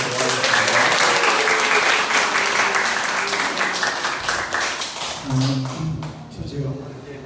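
Sustained audience applause at a church lecture, dense clapping that fades slightly and then swells again, with a Korean voice coming in over it near the end.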